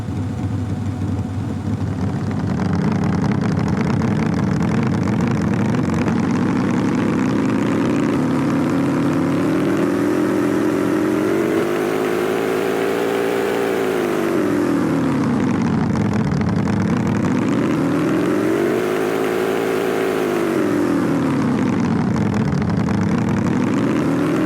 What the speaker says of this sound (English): I'll just do a quick rev up all the way through the RPMs and all the way back down.